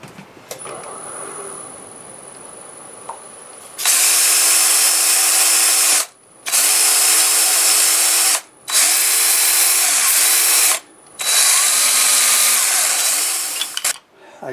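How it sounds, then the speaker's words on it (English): A wood lathe spins a turned piece of firewood while 180-grit sandpaper is pressed to it, a loud, steady motor whine with a dense rushing hiss that cuts out briefly three times after a quieter opening stretch. "Just going to go over this, sand it. That's 180 grit I have on it"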